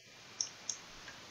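Two crisp key clicks from a computer keyboard's shift key in a quiet room while using GIMP image software, spaced about a third of a second apart, followed by a fainter tick.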